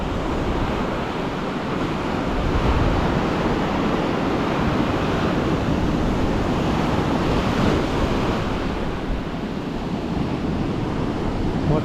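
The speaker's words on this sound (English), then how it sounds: "That onshore breeze is very welcome." An onshore breeze buffets the microphone at a hot beach, with steady wind roar over continuous crashing surf throughout, loud and unbroken.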